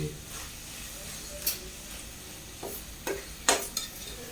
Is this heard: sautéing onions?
yes